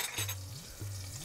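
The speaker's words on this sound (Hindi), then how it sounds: "ये आधा चम्मच जीरा जो है उसको डाल देते हैं, उसको भी तड़क जाने देते हैं" Cumin seeds and green chilli crackle and sizzle in hot oil for a lima bean gravy, with a steady frying hiss and two low stirring scrapes of a spoon in the pan, no voices.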